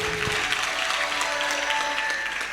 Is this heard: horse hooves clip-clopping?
no